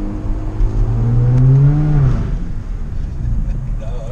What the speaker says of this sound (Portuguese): Você viu os estralos na troca de marcha?